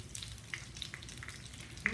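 Shallots sizzle in coconut oil inside a clay pot, a soft steady frying crackle with a few brighter pops and spits scattered across the two seconds, close and fairly quiet with no talking.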